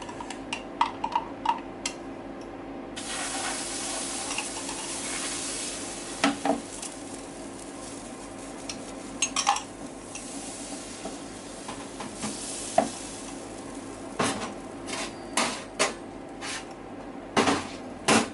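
Oil sizzling in a very hot frying pan, a steady hiss with scattered crackles and pops and occasional scraping stirs throughout, close and fairly quiet with no talk.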